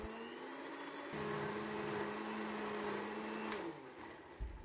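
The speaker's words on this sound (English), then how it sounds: "Continue to blend for 20 seconds." Electric blender grinding sambal paste thinned with water, a loud steady motor whine whose pitch shifts as the load changes, running continuously then winding down near the end.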